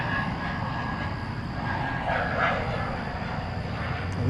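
A Turkish Airlines airplane at DFW airport at night gives a steady distant engine rumble, broad and even, with a faint dog bark briefly audible in the background.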